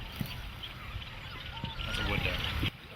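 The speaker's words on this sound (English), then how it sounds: "That's a wood duck." A wood duck gives a thin rising squeal among other waterfowl calls at a California wetland, faint and somewhat distant, with soft talk and outdoor background noise.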